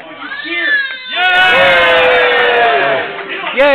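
A crowd at a medieval Kingdom event court bursts into loud, sustained cheering and whooping, many voices overlapping near and far, with a few shouts rising at the end.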